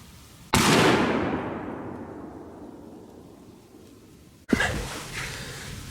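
A .223 soft-point rifle round is fired at a grapefruit, a sharp loud report with a long rolling echo that fades for several seconds, then a second crack follows near the end.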